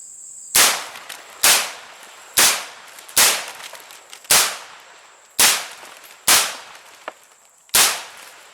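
Gunshots fired at baseball cards, ten sharp loud cracks at fairly even intervals of roughly one second, each with a short decaying tail, close by with no talk.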